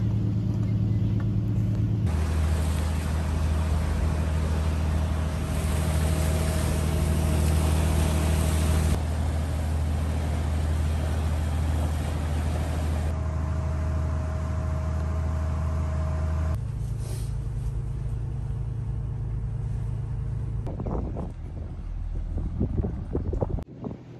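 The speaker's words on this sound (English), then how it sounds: "I put the engine up to full speed for quite a few minutes" The engine of a Nordhavn 47 trawler yacht runs at full speed during a sea trial, a steady, loud low drone mixed with wind rush that shifts in tone partway through and thins out near the end.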